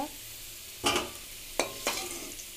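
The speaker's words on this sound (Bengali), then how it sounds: "আলুটা আমি লাল লাল করে বাদামি করে ভেজে নেবো" Potatoes frying in oil until browned, with a steady faint sizzle broken by three short, sharp stirring scrapes spread across a quiet stretch.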